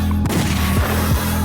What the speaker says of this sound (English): You bring the gunshots in